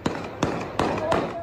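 Explosions from fighting in Khartoum, Sudan, captured in news footage: four sharp blasts at roughly regular intervals, each with a quick burst and short decay over continuous background noise.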